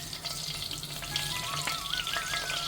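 Whole cinnamon sticks and cloves fry in hot oil for a pepper chicken dish, giving a steady, close sizzle that holds evenly throughout with no talking.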